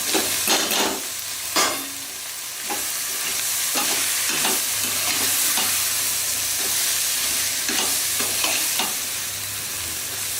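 Grated coconut fries gently in a pan for a veg kurma, giving a continuous close sizzle broken by regular scraping strokes of a spoon against the pan.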